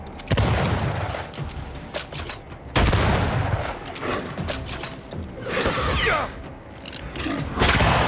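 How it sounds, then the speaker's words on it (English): Gunfire in the Banishers: Ghosts of New Eden video game, with several loud, sharp shots separated by pauses, plus mechanical clicks and a whooshing effect between them. "I think I heard the sound of a gunshot"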